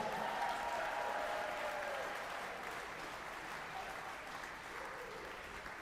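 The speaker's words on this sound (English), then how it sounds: "Let's give all 14 people a big round of applause at that level." Applause from a hybrid gala crowd for donors pledging at a giving level, a fairly soft, steady patter of many hands clapping that eases slightly in volume as it continues, with a faint voice audible early on.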